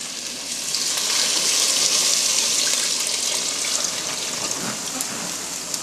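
Homemade stock pours steadily into a pot, a continuous close splashing rush that swells then settles, with no talking.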